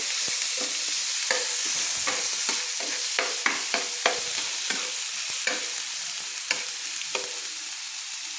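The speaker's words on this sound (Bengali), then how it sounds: "দিয়ে ভালো করে আমি কিন্তু টমেটোটাকে নেড়ে নিচ্ছি।" Chopped tomato fries in oil in a pan while a spoon stirs and scrapes it, giving repeated sharp scraping strokes over a steady sizzle.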